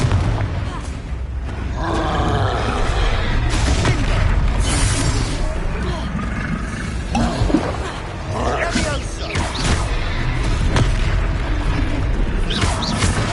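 Booming blasts and roaring magical impacts from a Confringo blasting spell in Hogwarts Legacy combat, several heavy bursts within a dense, noisy fight, with voices talking over the action.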